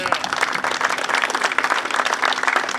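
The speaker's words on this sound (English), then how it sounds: "I think we owe him a round of applause" A crowd at an Italian American community rally on the South Side applauds a veteran, producing dense, continuous clapping that stays loud and steady through the short stretch.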